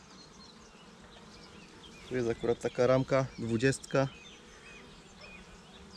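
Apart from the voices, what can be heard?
honeybees buzzing on hive frames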